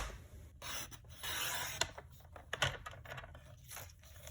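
Paper trimmed to 4 1/4 inches for a waterfall card: close, dry rasping and scraping strokes of the blade through cardstock, with a few sharper slicing bursts, no talk.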